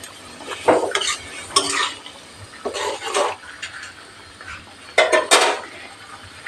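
Spoon or spatula scraping and clattering in a metal pan as fried prawns are stirred into a thick almond gravy, several short bursts of stirring with brief pauses between, close and fairly loud.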